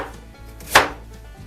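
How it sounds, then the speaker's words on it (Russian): A knife slices through a carrot with one crisp, close chop striking the cutting board, short and sharp against an otherwise quiet kitchen. "Морковь нарезаем вот такими слайсами."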